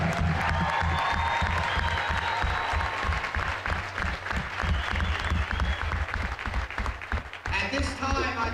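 Audience applause for the coaches at a varsity girls basketball event in a gym, sustained clapping with light cheering and a few voices mixed in, continuing to the end.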